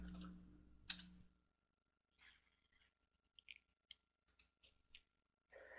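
Keys click on a computer keyboard while a short script is typed in an editor. The taps come in sparse, faint, separate bursts in a quiet room, with a brief low hum at the start.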